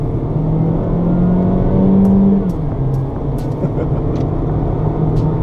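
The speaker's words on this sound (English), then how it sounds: "this engine, though it's not making a ton of power, does a good job at delivering the power when you want it" A 2014 Chevrolet Sonic LS accelerating, heard from inside the cabin as a loud droning engine hum that rises in pitch, drops off around a shift, then settles under road noise.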